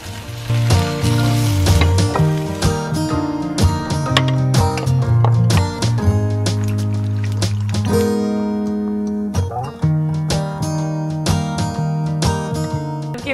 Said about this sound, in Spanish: Las espinacas se rehogan así un poco.